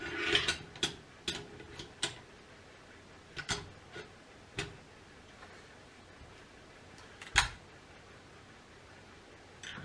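An IHC M1 Garand rifle being reassembled, its bolt going back in: scattered soft metallic clicks, slides and clacks, close but quiet, with one sharper clack near the end.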